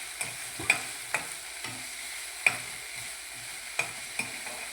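Radish greens are stirred and mixed in a pan with a sizzling sound. Scattered utensil scrapes and taps ring out over a quiet sizzle.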